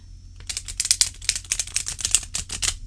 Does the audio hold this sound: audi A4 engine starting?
no